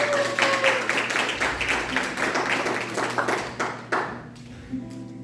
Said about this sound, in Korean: 예수님을 찬양하면서 박수를 드리겠습니다